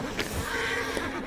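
A horse in the video game Assassin's Creed Syndicate lets out a short neigh amid a busy background of game sound, with no one talking.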